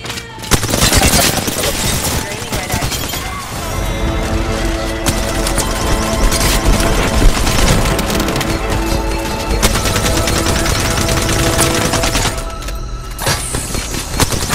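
Rapid, dense automatic gunfire rattles almost without pause in an Apex Legends battle, with loud overlapping bursts and sustained firing over about fifteen seconds.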